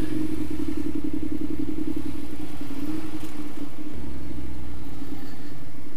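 A motorcycle with rock-hard suspension and a short wheelbase is ridden hard, its engine a loud, steady rumbling drone with throttle changes and wind buffeting close to the rider.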